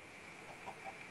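A chicken in the video game Minecraft gives a few soft, faint clucks over a quiet background hiss.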